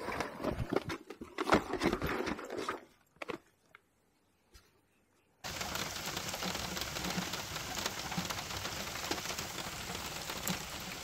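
Rain falls on the surface of the Elektrėnai reservoir during feeder fishing, a dense, steady hiss of drops that starts suddenly after a few scattered clicks and a brief hush, with no talking.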